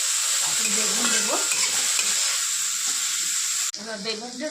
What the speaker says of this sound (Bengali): এবার বেগুনটা দিয়ে দিলাম, বেগুনটা একটু ভাজা ভাজা হবে।